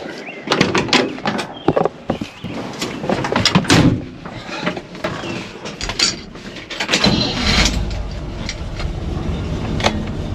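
A 1968 Chevrolet C20 truck close by: a door thuds shut, a few clunks and rattles follow, then the engine cranks and catches into a low, steady rumble that carries to the end.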